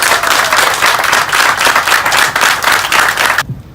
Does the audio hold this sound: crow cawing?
no